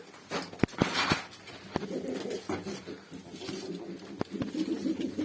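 Tumbler pigeons coo in low, repeated throaty phrases close by in a loft. Sharp clicks and taps cut through now and then, and quiet rustling fills the background.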